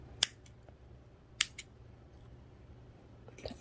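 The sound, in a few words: scissors cutting yarn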